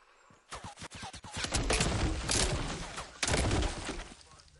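Gunfire in the video game Fortnite: a quick string of sharp shots gives way to a rapid, dense burst of automatic fire, then another heavy volley, moderately loud and close.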